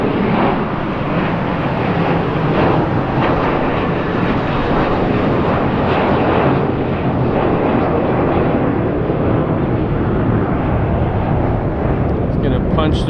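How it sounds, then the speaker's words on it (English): An American Airlines Airbus jet airliner thunders at Los Angeles airport, a loud sustained engine roar that holds level throughout, with a voice faintly underneath. "Another American Airlines Airbus."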